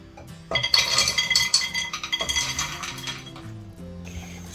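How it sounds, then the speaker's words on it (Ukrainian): Mixed berries (redcurrants, blueberries, blackberries and raspberries, about 400 g) tumble into a thick-bottomed saucepan, a dense run of clinking, rattling impacts lasting a few seconds before tapering off, close and alone. "Пересипаю кастрюльку з товстим дном."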